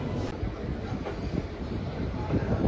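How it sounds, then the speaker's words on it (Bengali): A moving passenger train rolls along in the early morning, its dense low rumble and rattling carriage noise heard close and continuous from inside the coach. "ট্রেনটা কিন্তু রাইট টাইমেই ছাড়লো"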